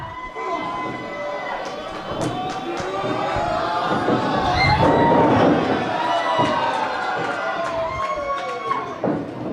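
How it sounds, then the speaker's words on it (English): A large crowd at an independent pro wrestling show in Des Moines cheers and shouts steadily, with scattered thuds and slams from the ring under the roar. "The crowd loves it. They want to see the back rake."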